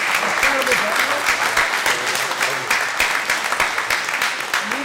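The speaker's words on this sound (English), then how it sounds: "Can we get one more round of applause for our incredible panelists?" Sustained applause from a convention audience saluting a wrestling Q&A panel, dense steady clapping that fills the whole stretch at close range with some crowd noise underneath.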